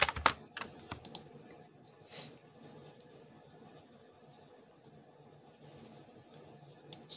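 Computer keyboard typing while coding an app, a quick cluster of sharp key clicks at the start followed by a few sparse, quieter taps over faint room noise.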